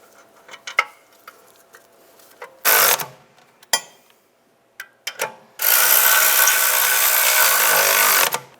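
Ratchet clicking as caliper bracket bolts are tightened on a 2004-2010 BMW X3 rear brake, with short bursts of close metallic ratcheting and two longer sustained runs of rapid clicks, separated by small clanks.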